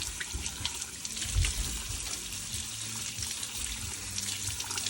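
Running water rinsing a rubbery mesh stencil in a sink, a steady close splashing trickle with gurgles and small spatters throughout.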